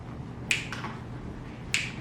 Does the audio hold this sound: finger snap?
yes